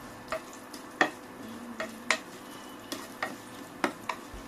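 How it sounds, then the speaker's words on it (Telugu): Garlic cloves, cumin seeds and mustard seeds fry in hot oil for sambar tempering, a low sizzle broken by sharp, regular spoon taps and scrapes against the pan, close and clear. "వెల్లుల్లి రెబ్బలు ఈ విధంగా కాస్త వేగిన తరువాత 1/2 టేబుల్ స్పూన్ జీలకర్ర మరియు 1/2 టేబుల్ స్పూన్ ఆవాలను వేసుకుని వేయించుకోవాలి"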